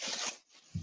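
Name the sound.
someone rustling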